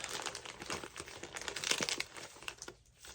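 A package ripped open by hand, with a quick run of loud, close crinkling and tearing bursts of paper and plastic.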